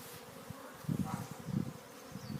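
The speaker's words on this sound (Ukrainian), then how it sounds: "бджілка носить пилок уже" Honeybees buzz near a beehive where queens are taking mating flights, a close steady drone with pulsing swells as individual bees pass by, with no talking.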